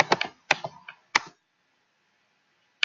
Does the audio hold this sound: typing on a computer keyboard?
yes